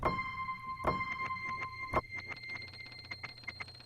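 Bright, glassy piano-like tones from a piano sample run through a crystallizer effect, with shimmering pitched echoes and chiming upper harmonics, struck in quick repeated hits that glitter and ring over a low hum.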